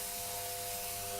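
Disinfectant spray hisses steadily onto the blade of a running hair clipper, a continuous close spray layered over the clipper's constant motor hum.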